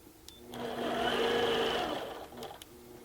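A sewing machine hums and clatters through a short, steady burst of stitching as a band is sewn onto fabric, close by and clear, with brief handling taps before and after.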